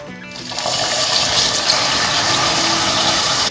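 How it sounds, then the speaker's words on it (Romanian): Water pouring steadily into hot melted caramelized sugar in a pan while making syrup for Turkish baklava, a continuous loud rushing, sizzling gush that holds steady for several seconds. "Adăugăm apa"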